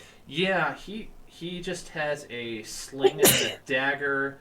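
A single sharp sneeze bursts out mid-conversation, brief and close, between stretches of people talking.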